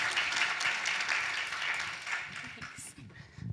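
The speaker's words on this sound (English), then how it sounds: "let's give her a round of applause for coming back" Applause from an audience at a talk on rare sleep disorders, a fairly soft wash of clapping that thins out toward the end as a speaker's voice takes over.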